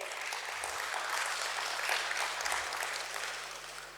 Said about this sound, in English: I would like you all to clap hard and give lots and lots of wishes